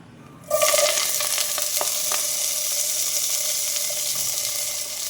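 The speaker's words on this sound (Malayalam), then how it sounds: "കൂടെ ഇഞ്ചിയും പച്ചമുളകും ഉണ്ട്, അതും ഇട്ട് കൊടുക്കണം. നല്ലപോലെ ഇളക്കി കൊടുക്കുക." Ginger and green chilies hit hot oil in a beef curry pan with a sudden loud sizzle that keeps crackling steadily as the mix is stirred, with a few scraping clicks and no voices.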